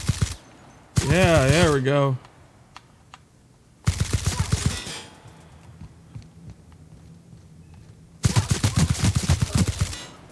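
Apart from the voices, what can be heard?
gunfire in the video game The Outer Worlds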